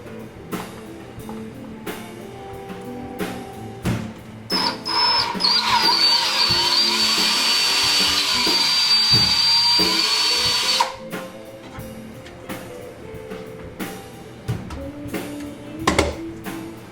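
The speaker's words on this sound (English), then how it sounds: "And I'll drill a 5/32 hole through here." A power drill whines steadily for about six seconds, drilling a 5/32-inch hole through a robot's panel, bracketed by clicks, handling noise and shorter bursts of the motor.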